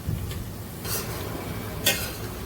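Brinjal and drumstick curry is stirred in a pan: two brief scraping strokes of a spoon stand out over a faint, quiet background.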